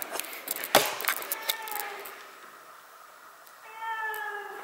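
A cat meows several times, drawn-out and fairly close, after a brief clatter of keys or handling noise at the start.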